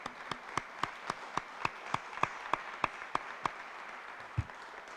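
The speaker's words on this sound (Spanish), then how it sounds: "me uno a vuestro aplauso" One person claps alone in an evenly spaced rhythm, about a dozen crisp claps, quiet and near, in a lecture setting.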